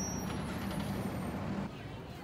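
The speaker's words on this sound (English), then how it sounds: "Now, Annapolis is buzzing with cars." Steady city street traffic in Annapolis with cars, trucks and buses, a continuous close engine rumble and brief air-brake hiss throughout, fading slightly near the end.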